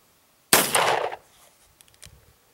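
A single loud, close gunshot from a .38 Special revolver loaded with small rifle primers, a sharp blast with a short ringing decay, followed by a few faint clicks.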